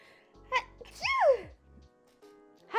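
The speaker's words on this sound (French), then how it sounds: "Je vais éternuer" A single sneeze bursts out mid-clip, a short sharp nasal blast with a falling tail, with brief bits of speech and noise around it.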